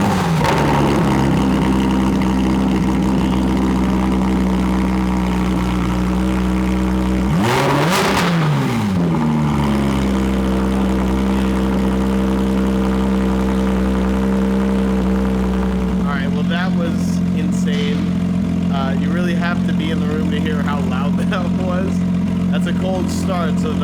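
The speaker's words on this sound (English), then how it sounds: "That's a cold start, so the valves are open." A Porsche 991.2 GT3 Touring idles after a cold start with its exhaust valves open. The loud, steady engine drone has a brief rev blip midway, and voices talk over it.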